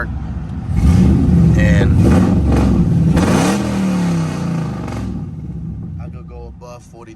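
A car engine fitted with TSP headers is revved hard while parked, a loud close-up roar that rises and falls over several seconds before settling; someone talks briefly at the end.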